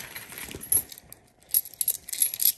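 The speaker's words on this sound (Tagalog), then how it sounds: "Kunin natin yung barya." Coins for a car wash are picked up and handled, giving sharp metallic clinks and jingles in irregular bursts close by, with no talking.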